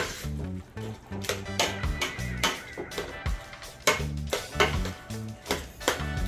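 Boiled potatoes with a piece of butter are mashed in a pot on the stove. Repeated close, muffled thuds and soft squishing come in an uneven rhythm, with no talk.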